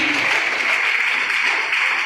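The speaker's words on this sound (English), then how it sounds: "big round of applause for Gangadhar." A crowd at a school quiz competition for National Space Day claps steadily, a dense, even roar of applause throughout.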